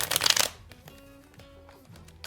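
A deck of playing cards is riffled in one quick, crisp burst of fluttering snaps, close and loud, then gives way to a quiet room with faint soft tones for the rest of the moment.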